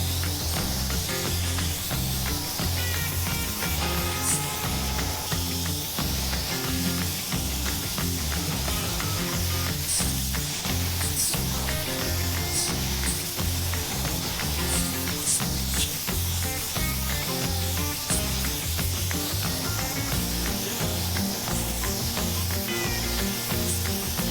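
A spray gun hisses steadily as final primer goes onto car body parts, a loud continuous broadband spray with slight pulsing over the whole stretch and no talk.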